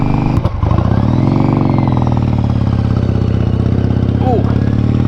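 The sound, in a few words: motorcycle being ridden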